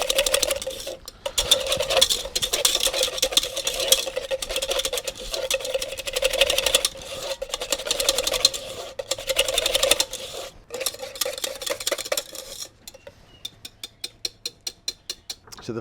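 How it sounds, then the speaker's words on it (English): Quark and lemon juice whisked in a bowl: rapid, continuous clicking and scraping of a whisk against the bowl for most of the time, close and fairly loud, slowing into distinct separate strokes near the end, with no speech. "So just give that a little whisk up to make it a bit smoother."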